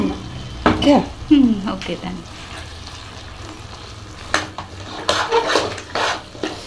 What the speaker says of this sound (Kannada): ಇದು ಚೆನ್ನಾಗಿ ಫ್ರೈ ಆಗಲಿ ಮಸಾಲೆ.